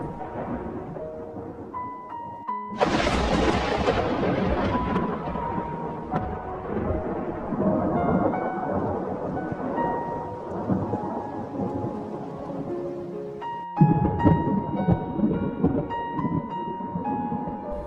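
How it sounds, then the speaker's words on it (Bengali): A heavy thunderstorm with loud rolling thunder booming over steady rain, with a sharp crack midway; a faint musical tone lingers underneath. "আর এমন সময় বৃষ্টি নামে।"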